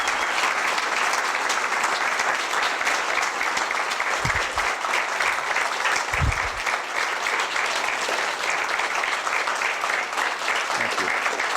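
Sustained audience applause at a talk on Christianity fills the whole stretch, a dense, steady wash of many hands clapping with no speech over it.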